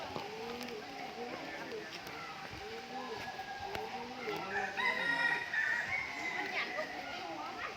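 A rooster crows repeatedly at a distance, its drawn-out calls recurring over a busy background of other birds and faint voices.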